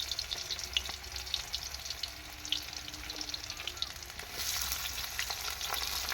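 Garlic frying in oil in a wok, a soft steady crackling sizzle with scattered pops and light stirring, growing a bit louder toward the end.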